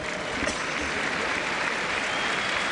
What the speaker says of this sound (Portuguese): Palmas para Barroso, o antigo jogador do Porto